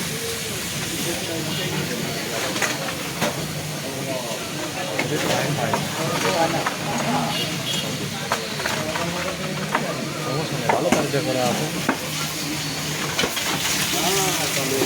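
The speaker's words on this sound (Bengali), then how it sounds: "দেখুন লাইন কিন্তু দেওয়া হওয়ার মাত্রই মোটরে কিন্তু জল কাদা ডেলিভারি দিয়ে দিচ্ছে" A new submersible water pump at a bike wash service center running steadily, pushing out muddy water with a continuous rushing hiss and gurgle, someone talking over it.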